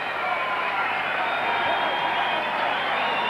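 A basketball crowd at a 1990 NBL game between the Newcastle Falcons and Hobart Devils cheering a foul call, a broad steady roar of many voices and clapping filling the arena, with a commentator talking over it.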